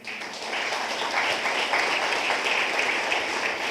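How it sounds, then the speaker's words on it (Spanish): A church congregation breaks into sustained applause for the Lord, dense clapping that swells after a quieter first half-second and stays loud to the end. "¿Cuánto le damos un aplauso al Señor?"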